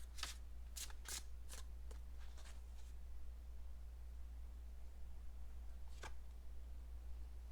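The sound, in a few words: shuffling and drawing tarot cards from a deck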